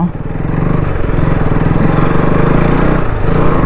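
A motorcycle engine runs close by in a steady, low, rumbling idle that holds loud and even throughout, with no voices.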